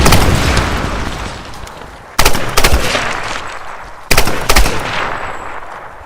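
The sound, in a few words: gunfire in Tomb Raider video game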